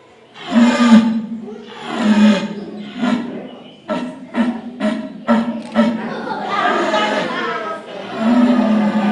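An old red deer stag roaring during a hunters' demonstration for preschoolers: several loud, deep, rasping roars, some long and some in quick choppy bursts, close and with no speech.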